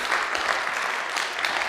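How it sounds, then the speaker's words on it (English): An audience claps together at a presentation evening, a dense, even wash of applause that holds steady throughout the short stretch, close and fairly loud with no talking over it. "Do you want to clap again?"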